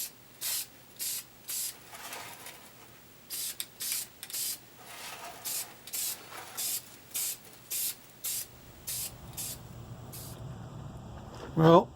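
Carburetor cleaner hisses from an aerosol can in about a dozen short, evenly spaced bursts onto a stripped gas tank from a homemade cart. The spraying is close and fairly loud, then stops, followed by quieter rustling and a brief knock at the end.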